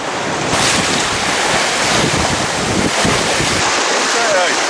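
Waves slosh and slap against a sailboat hull at sea amid strong, gusty wind noise, a constant rushing wash with occasional heavier splashes.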